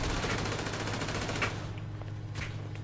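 Rapid automatic gunfire and blasts from a video game bank heist, a dense continuous rattle of shots at high volume that thins toward the end, with no talking.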